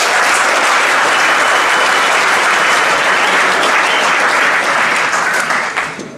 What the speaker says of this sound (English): Please, would you give a big round of applause for Carl Burnett.